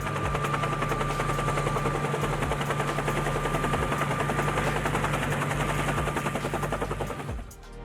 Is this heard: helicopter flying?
yes